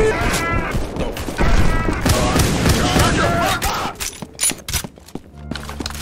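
Rapid bursts of Left 4 Dead 2 gunfire crackle through a busy mix of thuds and impacts, with a voice talking over the action.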